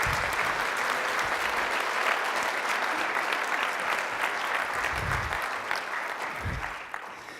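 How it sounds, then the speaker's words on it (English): Banquet audience applauding the committee at a neighborhood leadership awards dinner, sustained even clapping that fades slightly near the end, with a few soft low thumps and faint voices underneath. "Can we offer a round of applause to the whole group?"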